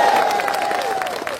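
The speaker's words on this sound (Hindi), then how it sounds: "मेरे लिए ताली हो जाए यार" An audience at a motivational speech by an MLA breaks into brief applause, a short burst of clapping from a crowd heard for just over a second.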